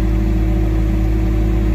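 A 2021 Alltrack AT-20HD machine's engine runs loud and steady at a constant idle, a continuous low droning hum with no talking over it.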